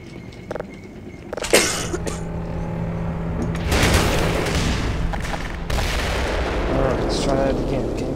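Rocket blasts boom in the Black Mesa video game, with several heavy explosions and rumbling aftershocks rolling through the scene while someone talks over the action.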